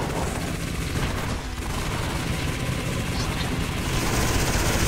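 A sentry turret in the shooter game Nation Red fires in a dense, continuous rattle of rapid shots, loud and unbroken, with no talking over it.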